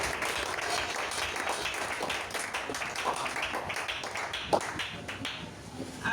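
A church congregation claps and applauds steadily, a dense, moderately loud patter of many hands with no pauses, with faint voices mixed in.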